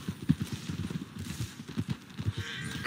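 Horse hooves of a Kentucky Saddler clip-clop in Red Dead Redemption 2, a steady, close, even walking rhythm of soft thuds that runs through the whole stretch.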